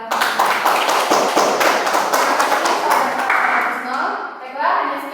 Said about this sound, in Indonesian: Itu beri aplaus kepada